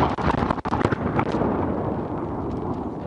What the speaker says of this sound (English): That's a huge explosion.